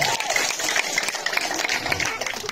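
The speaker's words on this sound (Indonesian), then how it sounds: "Tepuk tangan sekali lagi" Audience at a village head candidate debate in Lembata, East Nusa Tenggara, gives sustained applause with crowd noise, a voice speaking over the clapping throughout.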